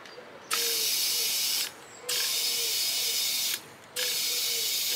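Electric tyre pump on a Cyrusher Kommoda e-bike setup inflating a tyre, a loud steady hissing mechanical whir running in three long bursts separated by brief pauses, close by.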